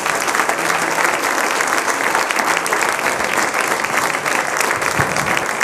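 A church congregation applauds throughout, a dense and steady clapping that is loud and close with no pauses, heard alone without talk.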